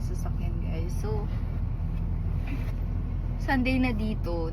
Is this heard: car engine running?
yes